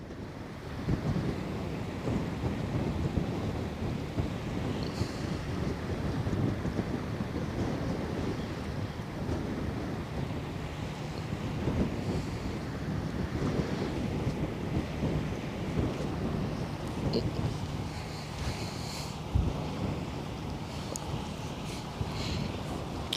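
Strong, steady western wind gusting off the sea at the Westerschelde in the Netherlands, a constant loud roar and buffeting across the microphone with surf-like washes and no pauses.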